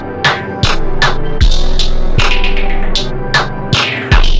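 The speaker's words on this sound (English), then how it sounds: "it's going to pitch everything down an octave and stretch it out twice as long." Electronic beat pitched down an octave and stretched to halftime by a plugin, with heavy, loud, smeared drum hits landing in a slow pulse over a dense, droning low end.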